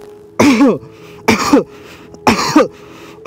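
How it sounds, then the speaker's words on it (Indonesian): Three forceful deliberate coughs in a row, evenly spaced with short pauses between them, close and loud, done as a breathing exercise for Covid-19 recovery. "Kemudian kita sengaja batukkan."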